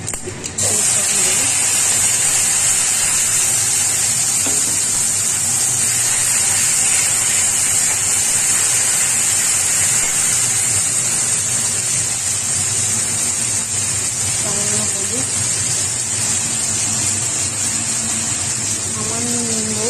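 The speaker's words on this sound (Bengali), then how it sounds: "কড়াই তেল দিয়ে দিয়েছি, এবারে কয়েকটা কালো জিরে দিয়ে" Nigella seeds dropped into hot oil in a wok, a loud continuous sizzle and hiss that holds steady throughout, close up, with a voice talking over it.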